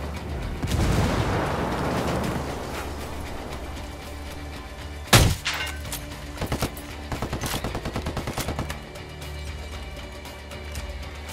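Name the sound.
flashbang grenade explosion and gunfire, video game Ghost Recon Wildlands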